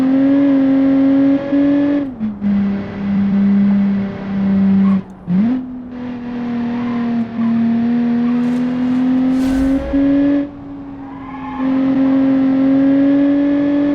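A racing video game car engine drones loudly with nitrous oxide boost on a jungle rock hillclimb, a steady high rev holding pitch with brief dips at gear shifts and throttle lifts; close, continuous, no talk.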